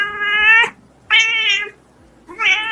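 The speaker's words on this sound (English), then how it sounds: "Cat," A domestic cat meows three times in clear, close succession, each call a drawn-out tonal cry with short pauses between them, heard alone with no voices.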